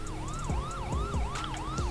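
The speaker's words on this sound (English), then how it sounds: "Sir, can you please turn off the sirens?" Police sirens in the video game FiveM (GTA V) wail continuously in a rapid, repeating up-and-down yelp, loud and close, with no talk over them.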